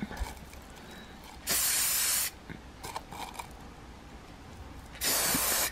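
Aerosol spray paint hisses onto champagne flutes inside a handmade spray booth: two loud, steady bursts of under a second each, separated by quiet handling noises and faint clicks nearby.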